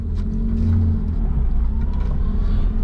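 A 1990 Suzuki Jimny pulls away in first gear, its engine droning low and steady with a mild rise in revs, heard from inside the cabin with no talk.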